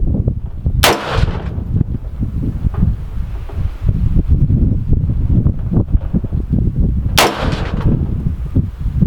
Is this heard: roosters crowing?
no